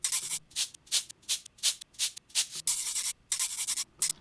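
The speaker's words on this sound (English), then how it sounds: "Let's look up cabasas because these are a cool element." Cabasa percussion sample in GarageBand, a bright scraping shake repeated in a steady rhythm of about a dozen short rasps, close and fairly quiet, with no voice.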